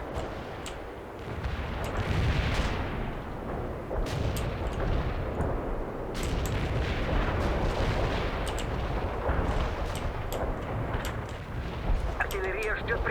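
An artillery barrage in the real-time strategy video game World in Conflict: continuous rumbling detonations and heavy impacts overlap into a dense roar, with sharper cracks breaking through and radio voices talking over the battle.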